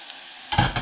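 Onion and garlic toast in a pan: near-silence gives way to a sudden burst of sizzling and stirring for the last half, loud and close, with no talk.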